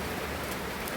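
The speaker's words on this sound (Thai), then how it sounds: "ฝนตกกระหน่ำ" Heavy rain pours down during a storm at a house, a dense, unbroken roar of water close by with no voices.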